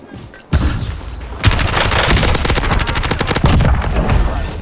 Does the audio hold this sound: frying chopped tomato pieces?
no